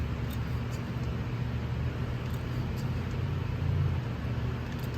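A lifted truck's engine idles while its rear brake lines are bled, making a steady, continuous low rumble with a broad hiss above it and no talking.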